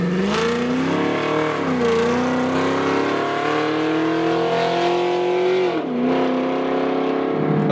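An 800 hp supercharged 6.2-liter V8 Cadillac CTS-V runs loud and close, its deep engine note holding steady with a couple of sharp revs that dip and climb again.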